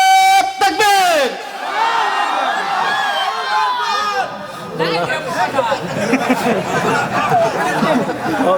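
A large crowd at an Islamic religious gathering in Bogura roars Allahu Akbar in unison after a takbir call, a loud sustained collective shout following a brief lead voice, then settling into murmuring chatter.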